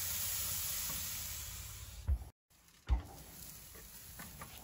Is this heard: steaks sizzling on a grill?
yes